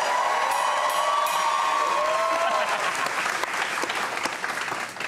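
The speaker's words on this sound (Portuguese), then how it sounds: "E a plateia vai te aplaudir" A studio audience at a comedy joke-battle on a Brazilian late-night talk show breaks into loud, dense applause with some cheering, strong at first and tapering slightly toward the end.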